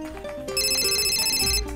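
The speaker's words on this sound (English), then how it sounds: "The phone continues to ring." A telephone rings in a scene from the visual novel The Devil on the G-String. The ring is steady, bright and trilling, and it repeats over a low musical backdrop.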